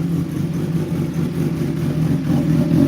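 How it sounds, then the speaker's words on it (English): Kawasaki Ninja ZX-10RR sport motorcycle engine, black metallic chrome, running while warming up. A steady, close, throaty drone with a slight pulsing throb and no clear revs. "We'll let it warm up and then we can give her some revs"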